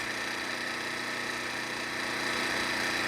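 A Harbor Freight Predator 1400 inverter generator runs in eco mode at a steady speed, a close, even engine drone with slight vibration that rises a little toward the end.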